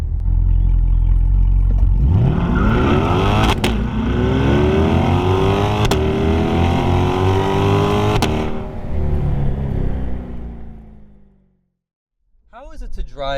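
A 2020 Chevrolet Corvette C8 mid-engine sports car revs loud and close, climbing through several rising sweeps with quick shifts before dropping away to near silence, then a brief burst at the end.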